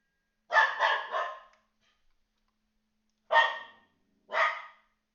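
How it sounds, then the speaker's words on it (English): Dog barking close by: a quick run of three barks, a pause, then two more single barks, with silence between. "Sorry about my dog."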